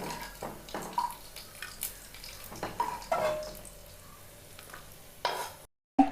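Cashews and raisins frying in ghee for payasam, a close crackling sizzle punctuated by repeated scraping stirs of a spoon in the pan, with a brief cutoff near the end.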